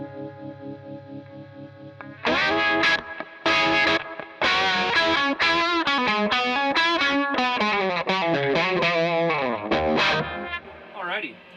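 A guitar plays through a PedalPCB Electro Vibe DIY pedal set to a fast speed with reduced intensity, giving a rapidly warbling, swirling tone over sustained chords and short riffs, loud and up close.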